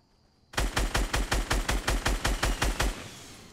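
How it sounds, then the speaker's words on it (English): Automatic gunfire in the Fortnite video game, a rapid, even burst of about a dozen loud shots fired in quick succession that stops abruptly, with no talking over it. "Now he's shooting at him."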